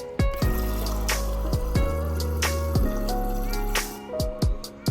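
Water is poured from a cup into a mixing bowl of cake batter, a close splashing gush with drips and clinks, repeated a few times.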